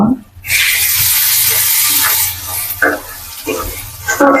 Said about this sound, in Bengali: আদা রসুনের বাটাটা দিয়ে একটু ভাইজা নিলাম যাতে কাঁচা গন্ধটা না আসে